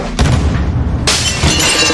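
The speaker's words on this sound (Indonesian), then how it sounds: "Polisi yang memang mengintai rumah itu mendengar suara pecahan kaca dan langsung bergerak" Glass shatters during a robbery of a luxury house, with two loud, close crashing bursts and a crunching, debris-filled tail between them, and no talking.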